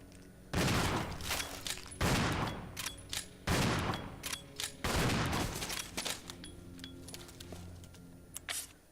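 Heavy gunfire in the Resident Evil 0 video game aimed at a spider, coming in four loud, dense bursts of rapid shots separated by brief pauses, followed by quieter scattered game effects.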